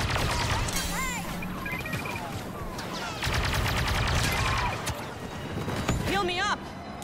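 Rapid blaster gunfire in the Star Wars Battlefront 2 video game, dense volleys and bursts running throughout, mixed with music and other game effects, while voices talk over the action.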